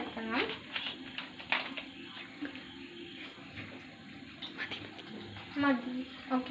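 Water is poured into a blender jar holding pineapple and ginger for juice, a close splashing trickle that runs intermittently across the clip, with someone talking over it.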